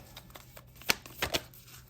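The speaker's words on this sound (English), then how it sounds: "Let's get a couple more cards out here for you" Tarot cards being shuffled and drawn, a few soft slapping and sliding bursts of cardstock spread unevenly across a quiet moment, close and fairly faint, with no one talking.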